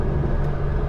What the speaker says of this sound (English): It bellows, this car, it absolutely bellows